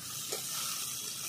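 Potatoes drop into frying masala and sizzle steadily in the pan, a soft, continuous hiss with a faint stirring scrape near the start, quiet and close with no voices.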